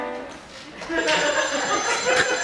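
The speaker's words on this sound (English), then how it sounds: "And the phone rang again." A telephone rings with a bright, trilling tone partway through, heard alongside voices and light laughter in an indoor scene.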